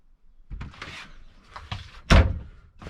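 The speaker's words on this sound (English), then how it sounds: "There's a door here which you can close off to this back bedroom." A cabin door on a narrowboat swings shut to the back bedroom, with soft handling knocks and rustles building to one firm, close thud near the end.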